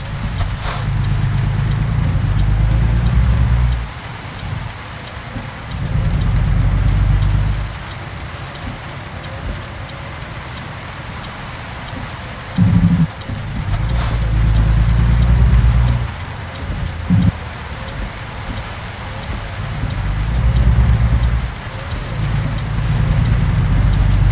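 Rain falls steadily on a truck in American Truck Simulator, with a continuous patter and a low engine rumble that swells and fades in several long surges.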